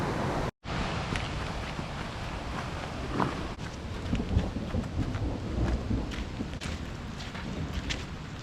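A thunderstorm during a hike to a waterfall brings low, rolling thunder over a constant hiss of rain and wind, with a few brief thuds from footsteps.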